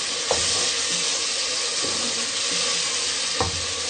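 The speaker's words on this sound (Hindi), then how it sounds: "मसाले को हम अच्छे से भूनेंगे।" Turnip sabzi with turmeric and coriander powder frying in a pan, a steady close sizzle and hiss with a few faint clicks of stirring, no speech.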